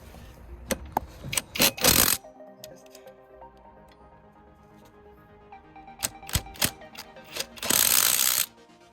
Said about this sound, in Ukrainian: Спочатку потрібно цих два болта викрутити.